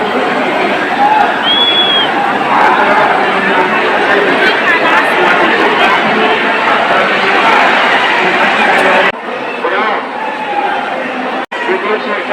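A large, dense crowd at Dongargarh fills the air with continuous loud chatter and babble of many voices close around, with a brief dip near the end.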